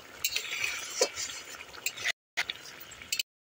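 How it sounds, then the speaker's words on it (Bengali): Ground garam masala paste being stirred into a kuche fish curry in a pan, with soft scraping and faint sizzling in short bursts, briefly cut by a moment of silence. "দিয়ে একটু নেড়ে ছেড়ে ফুটতে দেবো"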